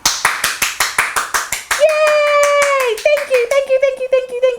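An audience applauding storytellers with steady, rhythmic, close claps. Midway a sustained vocal cheer joins in, then the clapping continues in quicker, uneven bursts.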